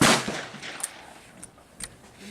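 A single sharp gunshot from a firearm shooting a .35 Remington bullet at a target range opens the clip loudly, followed by a fading echo and faint small clicks.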